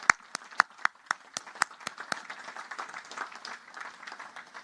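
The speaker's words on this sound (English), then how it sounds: "A big round of applause for your parents." Graduates clapping for their parents at a naval academy graduation ceremony held in rain-filled stands, opening with a run of sharp, evenly timed unison claps that break up into looser, fainter scattered applause.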